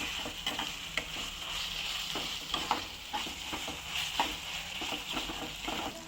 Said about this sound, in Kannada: ಇದಕ್ಕೆ ಒಂದು ಟೇಬಲ್ ಸ್ಪೂನ್ ಅಷ್ಟು ಶುಂಠಿ ಬೆಳ್ಳುಳ್ಳಿ ಪೇಸ್ಟು, ಹಾಕ್ಕೊಂಡು ಮಿಕ್ಸ್ ಮಾಡ್ಕೊಳ್ಳೋಣ.